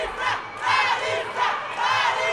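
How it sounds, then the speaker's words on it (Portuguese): Spectators at a Muay Thai fight between Luenia and Larissa roar and chant in rhythmic surges, loud swelling waves of shouting about every half second to a second, close and filling the room. "Escute aí a torcida."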